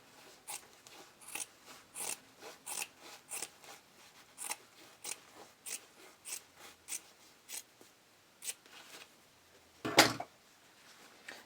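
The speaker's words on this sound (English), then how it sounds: "I'm just going to trim this back as close to my stitching line as possible." Scissors snip repeatedly through fabric overhang beside a stitching line, a steady series of crisp close cuts about every half second, followed by one sharper, louder snip near the end, with no talk.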